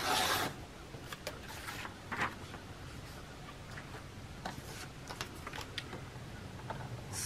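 Scissors cut around a bottle picture in paper for a gluebook, giving soft, close snips and rustling paper at an irregular pace, quiet and with no talking.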